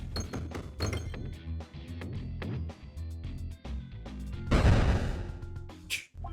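Bombs explode in the Peglin video game as a run of thunks and clinks over game music, building to one louder crashing blast near the end.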